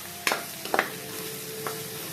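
Eggplant (vankaya) cooks village-style in a pan, giving a low steady sizzle broken by a few sharp scraping stirs, close and clear with no talking.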